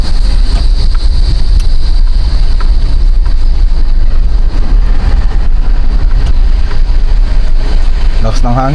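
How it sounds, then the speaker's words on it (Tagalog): Strong wind in Gerona, Tarlac, Philippines buffets the microphone in a loud, continuous low roar, with a voice speaking briefly near the end. "Lakas ng hangin ah."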